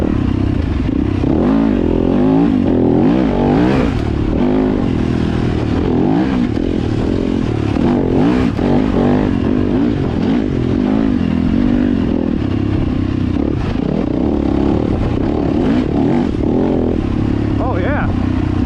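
A Yamaha YZ250FX dirt bike on a trail, its engine revving up and down close by through gear changes, with someone talking over the steady motor.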